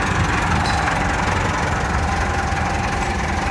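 Massey Ferguson 3060 four-cylinder, 77 horsepower four-wheel-drive tractor idles close by with a steady, loud, slightly knocking diesel rumble that holds constant throughout.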